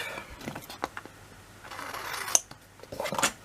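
Scissors snip through paper for a floral scrapbook album, with a series of close, soft irregular cuts and rustles followed by a couple of sharper metallic clicks.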